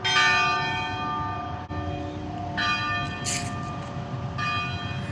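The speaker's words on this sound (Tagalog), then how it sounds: "Patatapos na yung kampana." A church bell rings with rich sustained tones, several strikes blending into a lingering hum, fairly close and clear.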